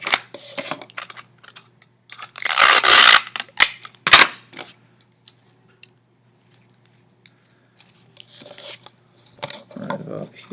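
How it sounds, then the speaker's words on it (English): Adhesive tape is pulled off a roll and pressed onto the fingers of a handmade robot hand, heard as a loud ripping burst followed by a sharper tear and then scattered small taps, rustles and a brief thump. "I'm going to tape them in place."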